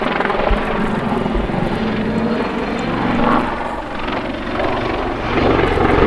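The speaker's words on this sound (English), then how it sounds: "That's a fairly exceptional display for a helicopter to perform." An Army Lynx Mk. 7 helicopter's rotor and engine drone loudly and continuously, swelling and easing slightly as it manoeuvres nearby in an aerobatic airshow display.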